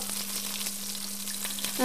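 Steady, dense sizzling of marinated meat frying in a pan, close and continuous with a faint constant hum underneath.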